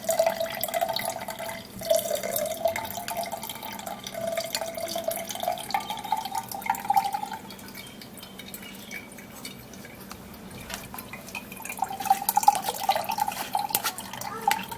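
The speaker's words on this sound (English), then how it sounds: "the next thing I'm going to be doing is to sieve it out. So get a strainer," Herbal juice trickles and drips through a kitchen strainer, a steady thin pour with scattered drops, close and soft, with no voices.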